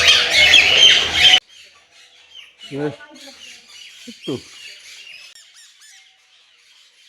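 Birds at Nahar Garden, including large cockatiels, give a couple of sharp, harsh squawks with scattered faint chirps after a loud burst of noise at the start, with a voice speaking briefly.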